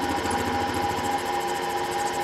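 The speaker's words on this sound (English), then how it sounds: "it's just taking up the cut now on the entry part of the carburetor." A machine cuts the carburettor bore of a KTM 50, 65 or 85, making a continuous, fairly loud, steady tonal hum with a faint rapid rhythmic flutter that does not change.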